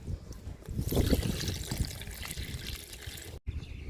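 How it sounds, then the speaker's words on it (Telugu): Liquid fertilizer trickles and splashes from a container onto a potted plant in a garden, a soft uneven pour that swells and fades before stopping abruptly. "ఈ లిక్విడ్ ఇచ్చి చూద్దాము లిక్విడ్ ఇస్తున్నాను"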